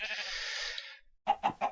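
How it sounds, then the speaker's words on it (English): A Minecraft sheep bleats in a short, bright cry, followed by a few quick separate clicks or steps, with no talking. "Sheep."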